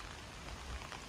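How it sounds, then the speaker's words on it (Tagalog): Steady rain pouring in an outdoor nature park, an even, close, wash-like hiss of drops on surfaces, unbroken for a brief moment with nobody talking. "Ay, lumalakas na talaga ang ulan."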